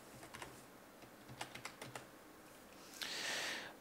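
Login name typed on a computer keyboard while setting up a game server: short bursts of light key clicks, quiet and close, then a brief soft hiss.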